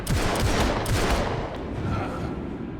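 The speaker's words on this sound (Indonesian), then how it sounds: "Jack memanfaatkan kesempatan merebut shotgun Ellie dan menembak." Shotgun blasts in a tense film shootout, several loud booming reports in quick succession within a dense, chaotic mix of gunfire that fades slightly toward the end.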